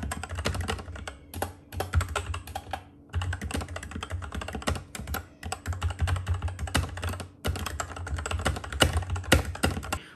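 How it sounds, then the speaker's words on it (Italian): Typing on an Ajazz K870T mechanical keyboard with Huano Black linear switches gives dense, fast, clacky keystrokes in quick bursts with brief pauses, close and clear with no voices. "troviamo degli Huano Switch Black, mai sentiti nominare, che però sono la versione cinese dei Gateron gialli"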